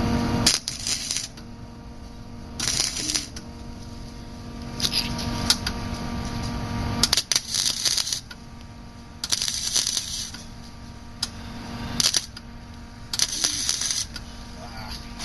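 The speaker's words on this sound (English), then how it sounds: "Now I'm just going to tack it, and I'm going to use my welding helmet in a second here." Tack welding steel for a DIY coyote trap outdoors: bursts of crackling, hissing arc sound lasting about a second each, repeated several times with pauses, over a low background hum.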